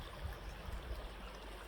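Water from a stream running high after recent rain flows in a steady, soft outdoor wash with low rumble, faint and continuous throughout without any talking.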